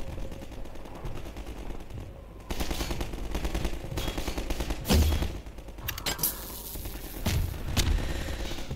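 Gunfire from a gun in the video game Half-Life 2 rattles in rapid automatic bursts with a few heavier booming impacts, loud and close over continuous game ambience.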